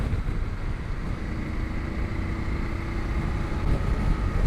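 A 2019 BMW F850GSA motorcycle with a 90 horsepower engine hums along on a test ride, a steady droning engine note mixed with wind rush, fairly loud and continuous.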